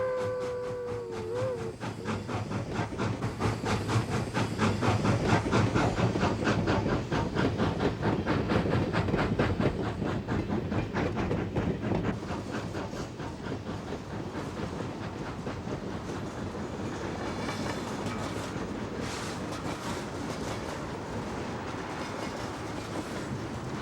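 A Northern Pacific steam locomotive, number 1355, hauls a freight train toward Sandpoint, Idaho in 1955, its rapid rhythmic chuffing rolling steadily past alongside clanking, clickety-clack wheels and hiss, loud at first then fading a little.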